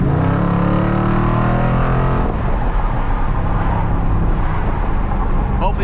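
A 2020 Dodge Challenger Scat Pack Widebody accelerates hard, its engine note climbing loudly with a gear change partway through, heard from inside the car with a voice faintly present.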